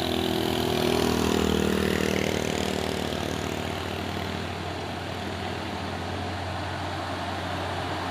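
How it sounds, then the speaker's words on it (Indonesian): Two orange Fuso trucks labor up the steep Bukit Kodok incline, their engines a loud, steady droning rumble that swells early on and then settles to a slightly lower, continuous growl. "Ternyata ada 2 unit truk Fuso oren yang akan menanjak ke tanjakan Bukit Kodok ini"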